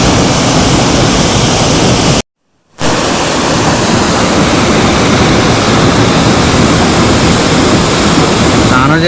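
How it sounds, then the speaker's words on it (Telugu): Dudhsagar waterfall in Goa thunders with forcefully rushing water, a loud, dense, continuous roar filling the whole clip apart from a brief dropout. "ఎంత ఫ్రోస్గా వస్తుంది వాటర్"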